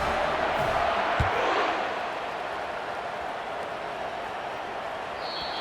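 Steady stadium crowd roar in an American football video game, a broad continuous wash of massed noise with a brief thump early on, easing slightly partway through.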